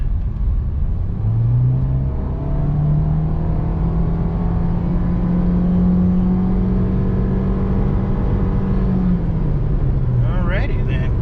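Nissan Juke pulling away at full throttle in rush-hour traffic: a loud, steady engine drone that climbs in pitch for several seconds, holds, then drops as the throttle eases near the end.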